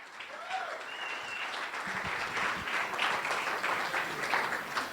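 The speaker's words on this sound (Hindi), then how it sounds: "आइए मैडम के लिए जोरदार तालियां।" A small gathering claps for a woman at a water product demonstration, steady, moderately faint applause lasting several seconds, with a few voices audible beneath it.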